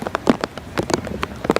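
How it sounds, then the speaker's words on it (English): Heavy rain pelts down during an outdoor women's rugby 10s match, hitting surfaces in dense, irregular bursts close to the microphone. "The rain is just intensifying and intensifying."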